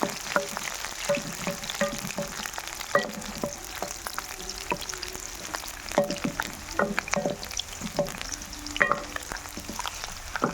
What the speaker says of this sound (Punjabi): ਸਭ ਤੋਂ ਪਹਿਲਾਂ ਆਪਾਂ ਇਹਦੇ ਵਿੱਚ ਜਿਹੜਾ ਲਸਣ ਆ ਉਹਨੂੰ ਪਾ ਦਾਂਗੇ ਦੋ ਮਿੰਟ ਤੱਕ ਆਪਾਂ ਲੱਸੀ ਨੂੰ ਜਿਹੜਾ ਫਰਾਈ ਕਰਾਂਗੇ